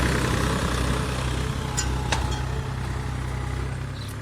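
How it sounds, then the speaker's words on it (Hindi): A New Holland 4710 4x4 tractor engine running steadily, a low continuous diesel rumble heard at moderate distance with a few faint clicks and knocks over it. "ये 4 व्हील ड्राइव की कंपनी का ट्रैक्टर है"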